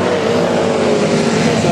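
A loud, steady engine roar from a 350 racing motorcycle at a vintage race meeting drones without a break, a dense, continuous mechanical growl close by.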